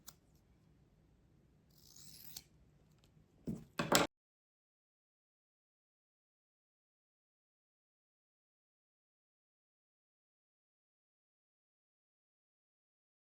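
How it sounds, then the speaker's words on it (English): Scissors trim the edges of a handmade wall string art piece, giving a few close, crisp snips over about two seconds before everything falls silent. "And then I'll trim off the edges."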